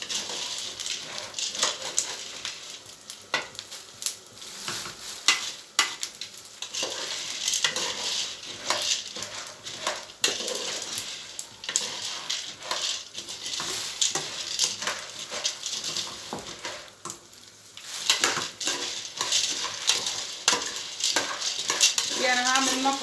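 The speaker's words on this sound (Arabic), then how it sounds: "والمكرونه بنقلب فيها" Vermicelli pasta being stirred as it fries in a pot, with scraping strokes, clinks of a utensil against the pot, and a continuous sizzle, fairly close with irregular bursts of stirring.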